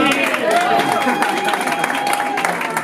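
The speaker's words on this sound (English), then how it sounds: "Can we just get us some encouragement the same way y'all clap for me?" Audience at a city board recruitment event breaks into close, sustained applause, a thick wash of clapping with cheers and voices mixed in throughout.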